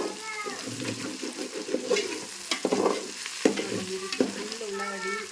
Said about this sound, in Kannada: ಈಗ ನೋಡ್ರಿ ಉಳ್ಳಾಗಡ್ಡಿ ಮತ್ತು ಆಲೂಗಡ್ಡಿ ಫ್ರೈ